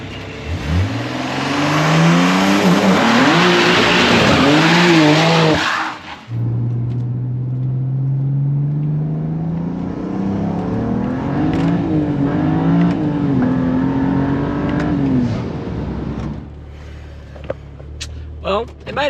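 A built BMW E90 with an N54 engine on a test drive, revving hard through several rising pulls, then dropping to a lower drone and climbing again, loud and close from inside the car, fading toward the end.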